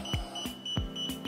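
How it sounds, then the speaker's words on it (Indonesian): A Covent 20 ventilator sounds its low pressure alarm: two paired electronic beeps repeating at a steady pace, each beep sharp and clear against a faint background hum, with no one speaking. "maka akan terjadi alarm low pressure."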